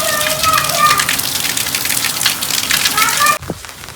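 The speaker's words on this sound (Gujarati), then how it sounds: "વરસાદ ચાલુ જ છે" Heavy monsoon rain pours down in a loud, dense, steady hiss, with faint voices mixed in, before the sound drops away abruptly near the end.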